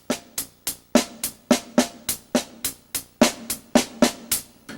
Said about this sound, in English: take that single paradiddle, which is, basic sticking right, left, right, right, left, right, left, left, which sounds like this